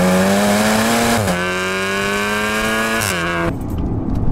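A 600 bhp methanol-injected VW Golf R accelerating hard in first gear, its loud close engine rising steadily in pitch with a brief dip at a shift, then cutting to a rougher lower note.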